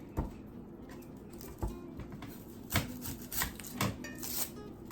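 Onion skin being peeled by hand in a kitchen while preparing pupusas, heard as soft dry rubbing and crackling with a few sharper papery snaps, close and fairly quiet.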